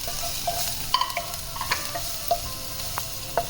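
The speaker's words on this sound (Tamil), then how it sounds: "பூண்டு, வரமிளகாய், சில்லி, இதை ஒரு 2 நிமிஷம் எண்ணெயில் நல்லா ஃப்ரை பண்ணலாம்." Garlic and dried red chillies fry in hot oil over a high flame, giving a steady close sizzle broken by sharp crackles and pops, with a few spoon stirs scraping the pan.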